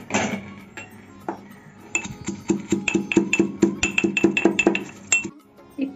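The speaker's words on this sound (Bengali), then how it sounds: "জিরা আর লঙ্কাটা ভেজে নিয়েছি, এবার একটু গুঁড়ো করে নেব।" Fried cumin and dried chillies are ground into powder for a dal recipe, heard as a close, rapid run of hard clinks and taps that speeds into a steady rhythm, then stops abruptly.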